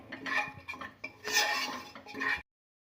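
A spoon stirs chili powder in a pan for beef curry, scraping and clinking against the metal in short bursts for a couple of seconds, close and fairly loud, then abrupt silence.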